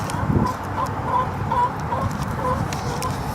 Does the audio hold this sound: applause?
no